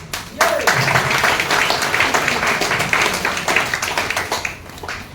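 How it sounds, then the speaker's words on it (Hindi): Audience clapping at a new distributor basic training seminar, a burst of handclaps rising quickly and continuing steadily for several seconds, somewhat uneven, with a voice briefly heard at the start. "ताली बजाते रहें।"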